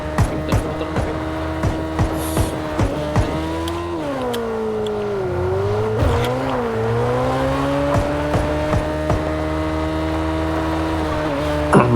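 In the PUBG game, a motorcycle engine drones steadily and close. Its pitch dips and climbs as it revs, and faint clicks and knocks sound over it.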